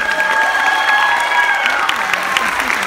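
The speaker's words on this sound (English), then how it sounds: "Can we clap for her?" Audience at a children's home in Nairobi claps for a little girl, a dense, lively burst of applause with a few higher cheers mixed in, close and loud throughout.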